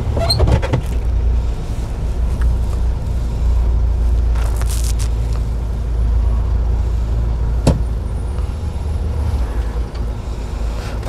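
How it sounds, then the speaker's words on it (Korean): A car lugs in fourth gear with the clutch half engaged, giving a loud, continuous low rumble and shudder from inside the cabin, with a couple of faint clicks and no talk. "4단 넣고 반클래스니까 차가 드르르 떨리잖아요."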